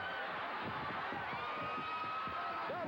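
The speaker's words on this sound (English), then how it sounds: "Look at the crowd going nuts. Arms up, screaming." Crowd cheering and screaming at a 1983 World Class wrestling event, a dense continuous roar with whoops rising over it, loud and unbroken.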